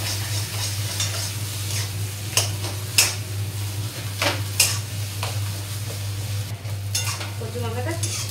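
Dried red chillies frying in a pan, a continuous sizzle with occasional sharp crackles and a few utensil scrapes against the metal, close up under a constant low hum, with no speech.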